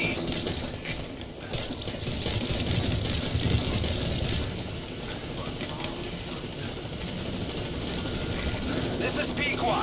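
An approaching support helicopter in Metal Gear Solid V, its rotor wash a steady broad roar that swells midway and holds, with a radio voice speaking over it.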